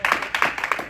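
Hands clap in steady rhythmic bursts as a church congregation applauds during a Spanish-language worship service, the claps loud, close and evenly paced with no talk over them.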